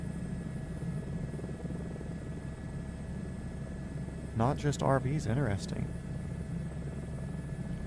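An H145 twin-turbine helicopter in a flight simulator, a steady mid-level rotor and turbine drone with a faint high whine, briefly overlaid by someone speaking.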